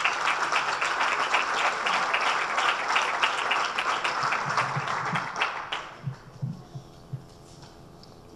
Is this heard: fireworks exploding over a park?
no